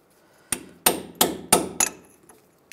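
A hammer strikes a chisel five times in quick succession, sharp metallic taps on the peened-over edges of a front lower ball joint on a 2007-2013 Chevy Silverado 1500, fairly close and with no talk.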